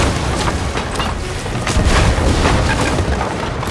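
Galleon cannons boom in a video game naval battle as a dense, loud barrage of overlapping blasts and rumbling, with no voices.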